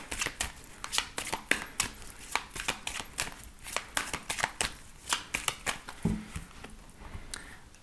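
A deck of tarot cards is shuffled close up, producing a steady run of crisp riffling and slapping bursts at an even rhythm, with no talk.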